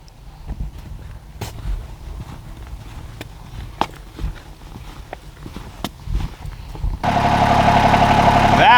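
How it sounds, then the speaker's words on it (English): A tractor engine starts up and runs at a steady mid-pitched idle near the end, after a stretch of footsteps and scattered knocks in an outdoor setting while working to move logs. "Let's get the tractor going."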